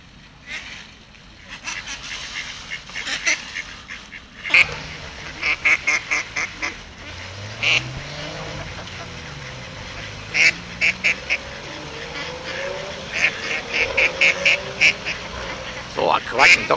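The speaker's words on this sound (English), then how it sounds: "Quacking ducks here." Ducks quack repeatedly near swans and a cygnet at the water's edge, with sharp close quacks and honks in irregular clusters over a steady outdoor background.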